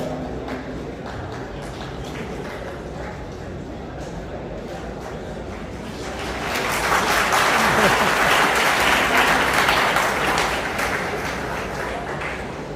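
An audience breaks into applause, starting under a steady murmur and then swelling into loud, sustained clapping from a crowd that continues to the end.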